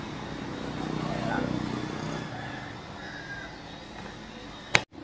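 Motorbikes and cars pass busily along a road near a shrine in Trà Vinh, Vietnam; one vehicle swells past and fades under a steady traffic wash, ending with a sharp knock.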